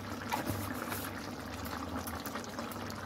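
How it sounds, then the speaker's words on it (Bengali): Green jackfruit curry bubbles at a boil in a cooking pot, a soft continuous burble and simmer heard close and quiet, with no talking. "কি সুন্দর উতলে গেছে আমার কাঁঠালের তরকারি"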